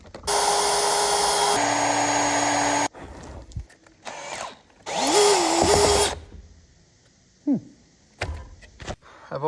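Power drill whining in loud bursts while drilling out a sheared fastener on a farm fence job, one long run then a shorter second burst, separated by quiet gaps with faint clunks and a brief squeak.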